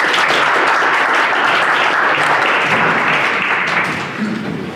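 Loud, dense audience applause for contestants at a university pitch competition, sustained clapping close by that tapers off at the end.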